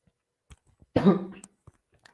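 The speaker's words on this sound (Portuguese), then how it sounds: "Desculpa pela tosse." A single short cough, close and dry, stands out in a quiet room, with faint small mouth noises before and after it.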